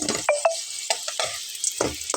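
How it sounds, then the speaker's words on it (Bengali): Potato and flour snacks fry in oil and are stirred, giving a few short bursts of sizzling with scraping utensil strokes between quieter gaps, heard close and alone with no talk. "দ্বিতীয়বার যেগুলো দিয়েছি সেগুলো কিন্তু ভাজা হয়ে গেছে দেখুন। তারপরেও কতটা তেল রয়েছে।"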